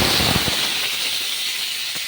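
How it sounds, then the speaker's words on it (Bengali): Tangra fish fry in hot mustard oil in a kadai with a steady, loud, bright sizzle and a few sharp pops and spatters, close up with no voices. "খেয়াল রাখবেন ট্যাংরা মাছ কিন্তু খুব ফাটে, ভীষণ ফাটে"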